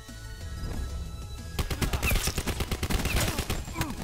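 Rapid gunfire from a weapon in Call of Duty Blackout bursts into a dense fusillade of sharp, close shots after a quieter stretch, continuing as a steady rattling stream to the end.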